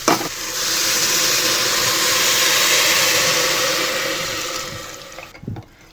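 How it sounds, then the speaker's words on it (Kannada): Water poured into a hot pan of fried onion, garlic and sprouted grams for sambar, setting off a loud sustained hiss that rises quickly, holds steady, then fades, ending with a few knocks of a utensil. "ಸ್ವಲ್ಪ ನೀರು ಹಾಕ್ಕೊಳ್ಳೋಣ."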